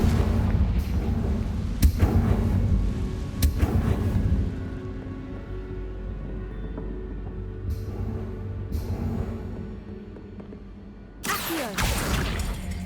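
Booming fiery blasts from a Confringo spell in Hogwarts Legacy, several loud bursts in quick succession at the start, a quieter rumbling stretch, then another sharp blast near the end.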